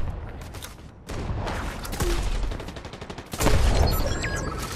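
Rapid bursts of gunfire in the Fortnite battle royale video game, dense and loud, with volleys rising in intensity toward the end and no speech over them.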